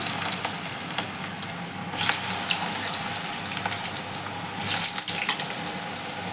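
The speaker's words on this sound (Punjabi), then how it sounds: "ਇਧਰ ਤੇਲ ਗਰਮ ਹੋ ਗਿਆ ਹੈ ਜੀ ਹੁਣ ਇਹਦੇ ਵਿੱਚ ਆਪਾਂ ਟਿੰਡੇ ਪਾ ਦਵਾਂਗੇ" Pieces of tinda (round gourd) fry in hot oil with a loud, continuous crackling sizzle that swells into brighter bursts now and then.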